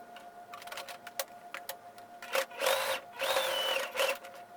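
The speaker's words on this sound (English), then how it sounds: "I'm just going to sew a stitch just kind of along the top of the waistband to hold this down." A sewing machine runs a stitch along the top of a pants waistband, its motor whirring in short bursts and longer steady runs with small clicks in between, close by and with no talking.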